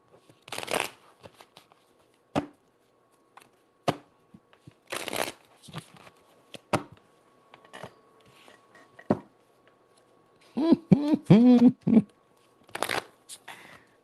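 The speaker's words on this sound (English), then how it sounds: "Let me shuffle these up." Cards being shuffled in several quick bursts of riffling and flicking, close by, with pauses and a few brief taps between.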